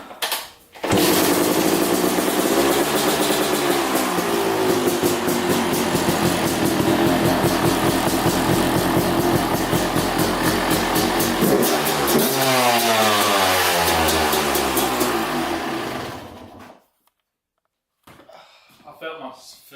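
A 2008 Yamaha YZ250 dirt bike engine runs loud and close for about fifteen seconds, with revs rising and falling, then cuts out to near silence; people talk over the engine.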